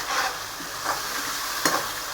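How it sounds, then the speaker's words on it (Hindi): Masala for chicken curry, loosened with a spoonful of water, sizzles in a pan while being stirred: continuous close frying hiss with a few soft scraping strokes and one sharper clink, no speech. "एक चमचा हम पानी शामिल कर देते हैं ताकि मसाला अच्छे से भुनता रहे और मिक्स हो जाए"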